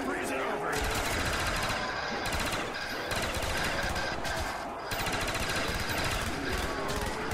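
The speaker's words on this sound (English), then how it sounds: "Shoot the Wonderwaffle. Just spamming crap out of it." The Wonder Waffle weapon fires in a zombies video game as loud, crackling bursts of rapid fire, repeating almost continuously with short gaps, heard up close alongside game sound.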